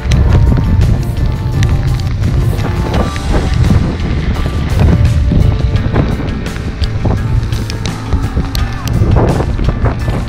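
Loud, blustery storm wind buffets the microphone in uneven gusts at a boat mooring, with a rough low rumble and occasional knocks and splashes throughout.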